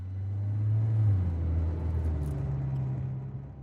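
A car drives away down a residential street, its low engine rumble swelling briefly and then slowly fading into the distance, with no voices.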